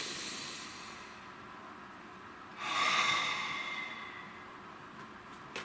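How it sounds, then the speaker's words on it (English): A single deep breath drawn in and released, audible alone in a quiet room before a tarot card reading. "Nice deep breath."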